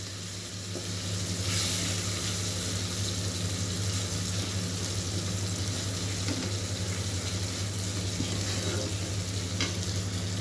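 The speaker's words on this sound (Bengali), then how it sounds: "এখন টমেটোগুলো দিলাম আর লবণ দিলাম। টমেটোগুলো ভাজা ভাজা হয়ে যাবে" Tomatoes with ginger, garlic and salt fry in a pan with a continuous soft sizzle and faint stirring scrapes, moderately close, with no voices.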